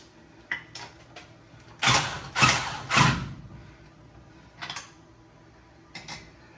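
Wheel nuts on a 1973 Mustang being torqued down: a few sharp metallic clicks, then a cluster of three louder ratcheting bursts mid-way, with more scattered clicks after, close and without talk.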